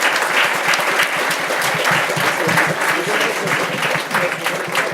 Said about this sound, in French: je vous propose d'applaudir à nos 4 intervenants